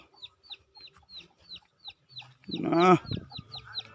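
Chickens cluck softly in a steady series, with one louder, drawn-out squawk near the end; close by with quiet surroundings.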